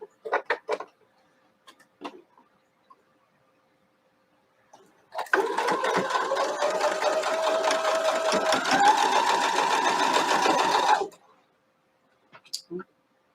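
A sewing machine stitches a quilt block in one steady, rapid run of about six seconds. Scattered clicks and fabric handling come before and after it.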